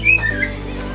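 A murai batu songbird (white-rumped shama) gives a few short high chirps and whistles in a brief burst, close by, over a low steady background hum.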